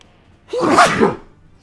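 A single short human sneeze, close and loud, bursting out sharply after a quiet moment and ending abruptly.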